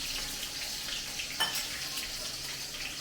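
Cumin seeds and green chillies fry in hot oil with a steady, close sizzling hiss, crackling lightly throughout and briefly flaring louder partway through; no one speaks.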